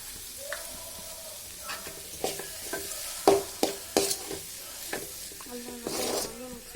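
Cracked eggs sizzle in a hot pan as they are stirred and mixed, with a soft continuous frying hiss broken by several sharp, close scrapes and taps of a spatula.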